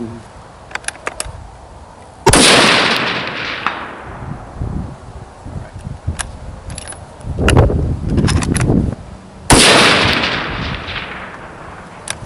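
Two loud, sharp rifle shots from a Ruger American in 6.5 Creedmoor crack out several seconds apart outdoors, each with a long rolling echo, while someone talks quietly between them.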